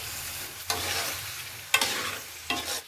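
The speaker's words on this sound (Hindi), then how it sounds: "इसको मिक्स कर लेते हैं" Chopped moongray being stirred into a ready gravy, with three distinct scraping stirs of a spoon through the pan amid a soft, steady sizzle; no talking.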